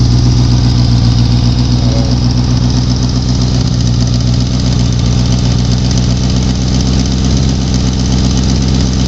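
A motorcycle engine idles close by, a loud, steady, rumbling drone with a fine pulsing beat that stays even from start to finish, with no talking.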